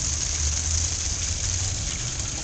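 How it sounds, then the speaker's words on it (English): A small waterfall in a city Japanese garden pond with fish and plants gives a steady splashing, trickling flow, moderately loud and continuous, with no voices over it. "Nice waterfall."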